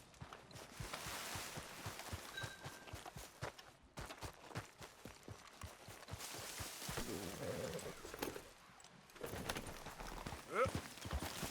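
Horse hooves clip-clop in Red Dead Redemption 2 gameplay, a quick, steady rhythm of close hoofbeats that pauses briefly and then resumes, with a voice talking over part of it.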